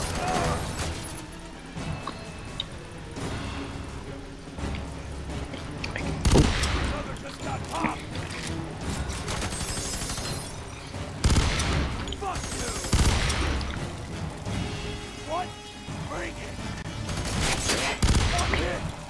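Gunfire in the video game F.E.A.R. 3 comes as dense, repeated bursts of automatic shots and loud booms throughout, with a player talking over the combat.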